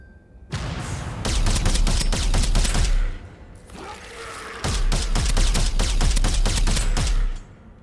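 Rapid bursts of hand cannon gunfire in the video game Starsiege Deadzone, two long sustained volleys of loud, close shots with a short lull between them.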